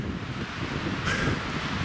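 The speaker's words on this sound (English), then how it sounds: "You guys, it's really, really windy today." Gusty wind roars against the microphone in a continuous rough buffeting, with a faint rustle underneath.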